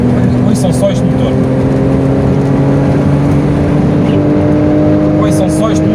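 An Alfa Romeo 164 with the V6 Turbo Busso engine runs loud and close, heard from inside the car. The engine hum is steady and droning, holding an even pitch throughout, with faint higher whines drifting in and out.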